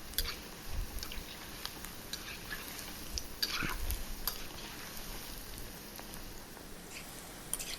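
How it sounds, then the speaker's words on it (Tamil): Rava gulab jamun balls deep-frying in oil, a faint, soft continuous bubbling and crackle with a few gentle knocks, no speech. "அதே மாதிரி மற்ற எல்லாத்தையும் நான் ஃப்ரை பண்ணி எடுத்துக்கிறேன்"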